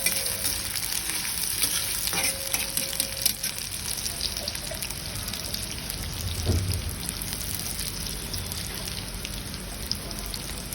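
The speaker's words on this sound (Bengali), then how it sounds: "তেল গরম হওয়ার পরে পেঁয়াজ কুচি দিয়ে দিচ্ছি, একটু ভেজে নেব" Chopped onions fry in hot oil in a pan for a beef brain bhuna, a steady close sizzle running throughout with occasional stirring scrapes and no voices.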